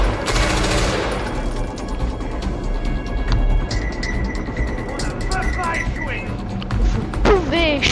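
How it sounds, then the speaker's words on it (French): Gunfire in the open-world shooter Far Cry 4, rapid bursts of automatic shots rattling steadily throughout. Speech in French runs over the shooting. "Arrête de me tirer dessus. Tire sur les autres."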